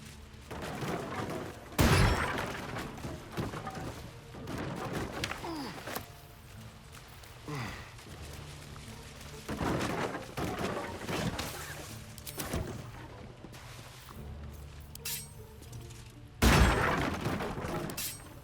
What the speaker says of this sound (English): Break these boxes.